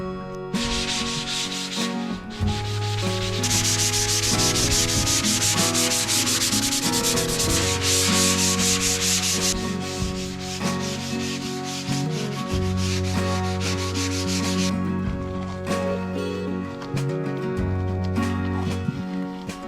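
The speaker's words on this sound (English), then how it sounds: "Sand this up and see if I can get a coat of broad wall sealer on there." Continuous rubbing and sanding of a plastered or taped wall inside a house under renovation, loud and close with steady strokes, with a droning tonal hum running underneath.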